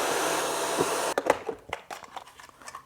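An ECOVACS DEEBOT X11 OmniCyclone base station roars with a loud, steady suction whoosh as it pulls in a tissue, then cuts off abruptly partway through, leaving scattered clicks and rustles.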